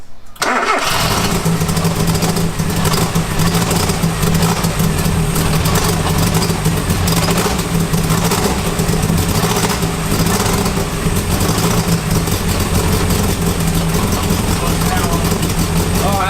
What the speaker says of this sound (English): There's definitely exhaust leaks.